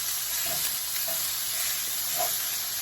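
Ground hamburger sizzles and fries in a pan, a loud steady crackling hiss with a few soft scraping stirs as the meat is pushed around.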